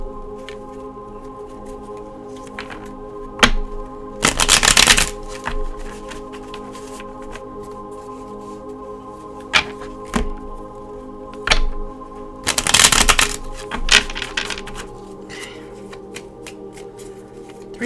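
An Osho Zen Tarot deck being shuffled by hand, two distinct riffling bursts of about a second each with scattered taps and card handling between them, close and clear over a faint steady background hum.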